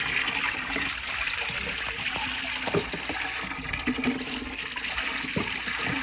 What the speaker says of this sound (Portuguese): agora tá saindo muita água, ó